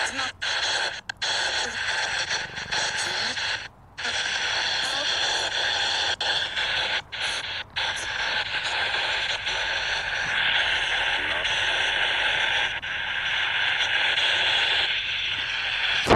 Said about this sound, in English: Just going to bring the spirit box out to see.